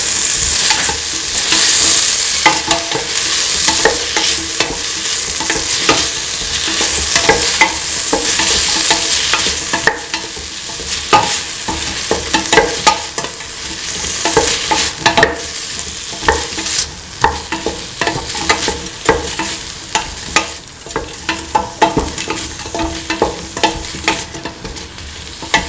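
Lentil and bell pepper mixture being sautéed and stirred in a pan for a coconut milk rice dish, with steady sizzling and frequent scraping spoon strokes throughout, close and fairly loud.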